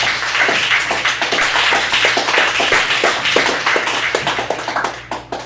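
Audience applause follows a poem at the Cafe Gallery poetry open mic in Chicago. Steady, dense clapping runs throughout, then thins into scattered claps as it dies away.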